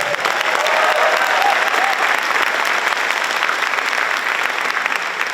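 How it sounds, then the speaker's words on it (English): Loud, sustained applause from a large crowd at a Hibbing High School athletics centennial celebration, honoring the marching band and alumni cheerleaders, steady and dense throughout without a break. "a warm applause for the marching band and our alumni cheerleaders"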